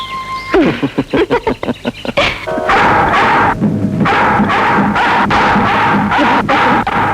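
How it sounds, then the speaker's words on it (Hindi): A pet dog barks in a quick burst of sharp, loud barks and yips, then gives way to a noisy, busy background with further faint barking. "अवश्य किसी का पालतू कुत्ता है, किसी भोले भाले हिरण के पीछे लगा हो।"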